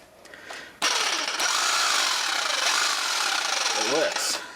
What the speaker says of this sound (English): here's a 18 volt Hitachi Recipro saw